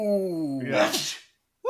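A single sharp sneeze bursts out amid excited vocal exclamations in a podcast conversation, loud and close, followed by a short silence and another voice starting.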